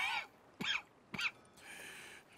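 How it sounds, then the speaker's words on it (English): A man coughs in the Red Dead Redemption 2 game, with two short, harsh coughs and throaty rasps between them, close up and otherwise quiet. "That's quite a cough."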